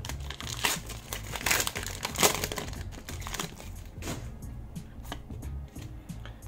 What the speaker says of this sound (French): Dernier booster, il est bien relou à ouvrir.